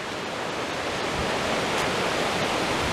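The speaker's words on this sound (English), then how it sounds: "there's a river coming down out of the mountains" A river flowing down from the mountains near a park entrance in Gansu, China, producing a continuous broad rushing wash of water that stays steady and fairly loud, with no voices.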